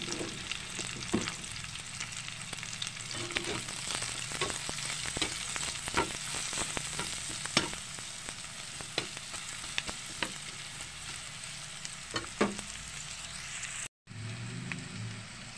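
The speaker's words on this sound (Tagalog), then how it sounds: "ginisa ko na sa sibuyas at bawang" Garlic and onion sauté in a pan for home-style humba, a steady close sizzle broken by irregular clicks and scrapes of stirring, with no talking, until a brief cut near the end.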